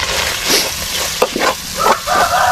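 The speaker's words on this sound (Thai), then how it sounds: "ผัดกับน้ำมันไปเลยนะ" Snakehead and catfish meat stir-fried in hot oil, a steady sizzle with brief scraping stirs of a utensil against the pan, close and fairly loud, no talking.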